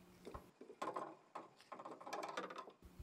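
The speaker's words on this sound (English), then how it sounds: "Tighten the cone tool until it stops." Double-flare cone tool being screwed down onto a brake line held in a flaring die, giving quiet, irregular metallic creaks and ratcheting clicks in short bursts, close up with no talking.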